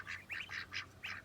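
Ducks give a quick run of about five short, nasal quacks in close succession, faint against quiet outdoor background noise.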